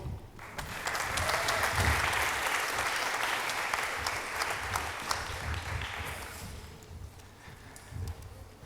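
An audience at a mobile marketing talk applauds a speaker coming on stage, a full sustained round of clapping that swells, holds for several seconds, then thins out with a few last claps.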